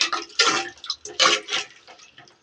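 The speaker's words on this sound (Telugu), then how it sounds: "ఒకసారి బాగా కలుపుకోవాలి." Stirring a pongal mixture of fried rice and dal with added water and salt in a pressure cooker, a few wet sloshing scrapes in uneven strokes, close and moderately loud.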